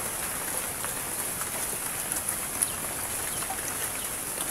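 Steady rain falls outdoors as a continuous, even hiss with scattered drop patters on surfaces and no talk.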